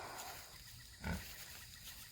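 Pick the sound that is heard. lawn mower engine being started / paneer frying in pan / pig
pig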